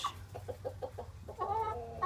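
A broody hen clucks in a quick run of short, soft pulses, then gives a longer, higher drawn-out call, close by and fairly quiet.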